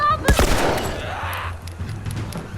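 Gunfire in The Last of Us Remastered: a loud, close burst of shots at the start, then a long rolling echo that fades into a low rumble.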